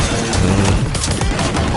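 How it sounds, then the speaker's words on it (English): Neighbourhood fireworks go off outside in a rapid dense crackle of pops and booms that sounds like a barrage, loud and continuous for under two seconds. "my neighbors are dropping fireworks if you hear, like, popping on my end"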